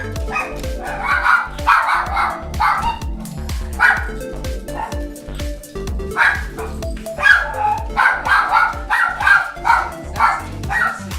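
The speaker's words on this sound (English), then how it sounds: "What you're hearing here is Sassy, the smallest of the two dogs that I'm taking care of here in St. Louis." The smaller of two dogs being looked after in St. Louis barks repeatedly at close range, sharp high yips in rapid bursts separated by brief pauses, with some whimpering between volleys.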